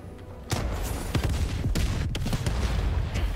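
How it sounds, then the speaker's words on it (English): A grenade bursts in the Helldivers 2 video game during a firefight with robots. A sudden loud boom is followed by a dense, steady barrage of gunfire and sharp cracks that continues to the end. "In goes the grenade."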